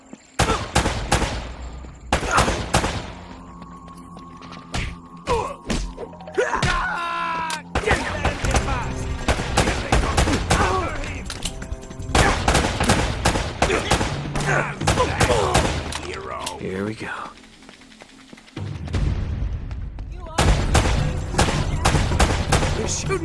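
Heavy video game gunfire in Uncharted Drake's Fortune, repeated loud shot bursts and volleys with short pauses, continuing through the whole stretch, with someone talking in between.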